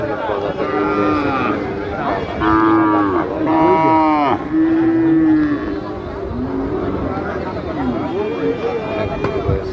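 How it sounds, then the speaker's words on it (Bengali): Cattle at a crowded Eid al-Adha livestock market moo repeatedly, several loud drawn-out calls close by over a steady hubbub of people talking and milling around. "অনেক গরু রয়েছে এখানে।"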